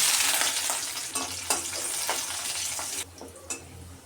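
Onions dropped into hot oil with whole cumin and a torn dried chili for a dal tempering, a loud close sizzle with stirring scrapes that quiets briefly near the end.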